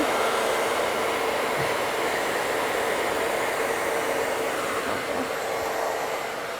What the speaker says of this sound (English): place it onto the head, and then diffuse it from there